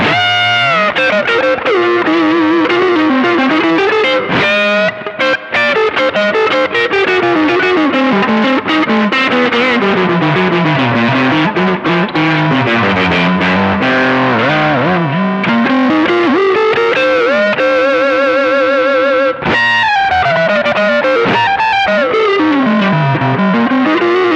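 Electric guitar lead played through a Randy's Revenge distortion pedal, a throaty, growling overdriven tone with sustained bending notes and expressive vibrato-laden phrases, loud and continuous with only brief pauses.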